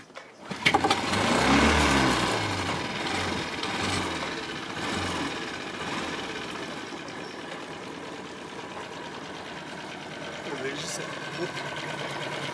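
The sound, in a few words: boat engine starting and running, pull start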